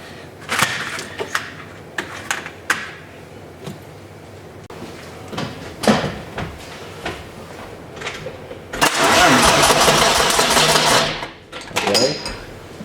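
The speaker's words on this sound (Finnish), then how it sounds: "kokeillaan pyörikö moottori" A BMW E30's turbocharged M52 engine turns over on its starter for about two seconds of loud, steady cranking, preceded by scattered clanks and workshop noises.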